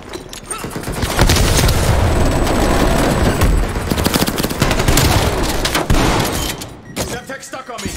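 Loud, dense gunfire and blasts fill a Call of Duty: Cold War match, with a grenade explosion among the sustained roar of shooting up close, easing off near the end.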